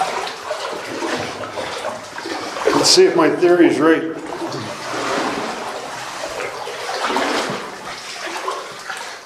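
Water sloshes and splashes as someone wades through a flooded passage in an old mine, a continuous close churning with louder surges, mixed with talking.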